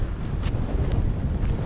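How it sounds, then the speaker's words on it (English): Wind buffets the microphone in low, rumbling gusts at a beachfront spot in Wales, steady and close, with no one speaking. "A little windy."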